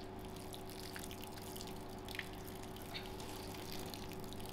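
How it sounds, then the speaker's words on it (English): Water trickles and drips steadily onto topsoil over freshly planted methi seeds in a pot. It is soft, continuous and nearby, with a low steady hum underneath and no talking. "I'm just going to water my"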